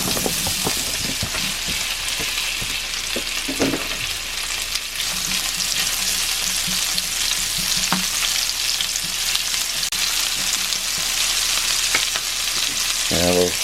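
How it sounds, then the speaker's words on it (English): Potatoes frying in bacon grease in a cast iron skillet, a loud continuous close sizzle with occasional scraping and stirring clicks throughout, no talking. "I want to save all this bacon grease because I want to cook the potatoes in it"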